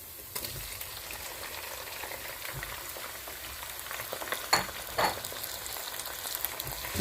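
Tomatoes frying in a pan with onions, garlic and ginger, a steady crackling sizzle with a few louder scraping bursts from stirring, close and alone.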